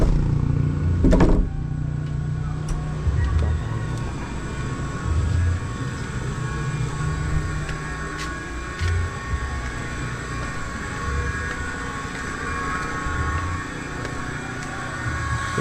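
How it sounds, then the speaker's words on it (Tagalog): An old boat motor drones steadily at sea off a coast in Quezon, a low continuous engine rumble with a brief sharper knock near the start. "yung dala natin yung motor na luma na yan"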